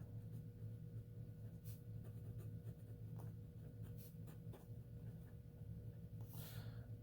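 A medium-nib fountain pen loaded with a wet-flowing ink scratches softly across paper in continuous close strokes, faint and steady over a low background hum, with no talking.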